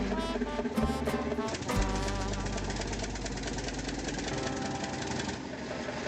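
A 40-horsepower hot bulb engine running close by, a steady rhythmic knocking chug with metallic clatter and a heavy low thump, loud and continuous.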